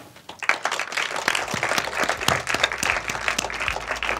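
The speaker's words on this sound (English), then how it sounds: "Let's give Rob a round of applause for being here." An audience at a film school guest speaker event breaks into sustained applause, dense overlapping claps from a room full of people.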